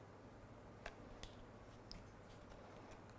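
Scissors snipping into the end of a strip of white cardstock to shape a flag end, a few quiet, sharp cuts spaced out over a soft room hum.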